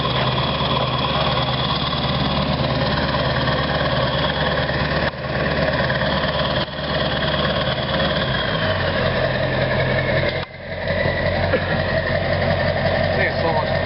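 A Ford 7.3 Powerstroke diesel truck fitted with a Wicked Wheel idles loud and near, a steady low rumbling drone with a few brief dips and a slight drop in pitch near the end.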